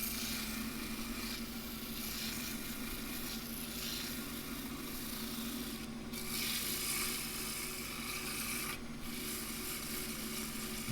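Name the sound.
sanding wooden bowl with oil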